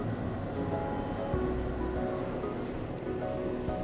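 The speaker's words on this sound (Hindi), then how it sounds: "पानी का फ्लो बहुत मस्त है," Fast-flowing river water rushing at Sonamarg makes a steady, loud broadband roar that runs unbroken from start to finish, with no voices over it.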